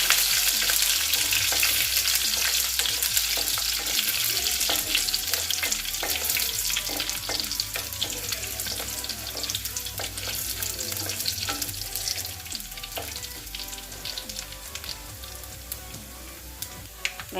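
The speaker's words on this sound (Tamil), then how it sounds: "வெங்காயம் நல்லா பொரிஞ்ச உடனே ஒரு வத்தலை 4 கிள்ளி போட்டுறோம்." Onions frying in oil in a clay pot, with a steady, dense sizzle and crackle throughout and occasional stirring scrapes, close and continuous.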